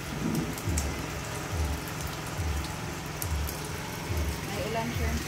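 Steady rain patters on a surface at a small shop, a continuous hiss with scattered drops, while low rhythmic thumps repeat underneath.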